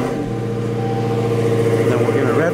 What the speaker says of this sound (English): So this is how the Hellcat sounds from the inside.